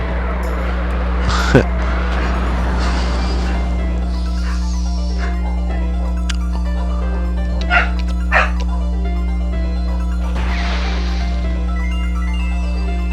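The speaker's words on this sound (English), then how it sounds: "if you can hear me over the dogs in the background." Dogs bark and yip intermittently in the background over a steady low engine hum, with a few sharper barks standing out.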